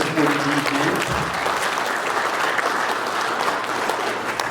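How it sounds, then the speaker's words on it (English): Sustained audience applause at a seminar on facility design and ventilation, dense and steady from start to finish with no talk over it. "let's give them a round of applause and thank them for their support of the event"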